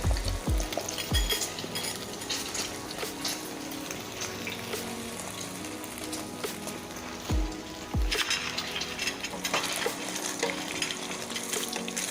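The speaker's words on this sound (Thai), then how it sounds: "เจียวไข่ปกติเลยนะคะเพื่อนๆ" Beaten eggs fry into a Thai omelette in hot oil for a jungle curry, a steady loud sizzle with bursts of spatula clatter and scraping near the start and again toward the end.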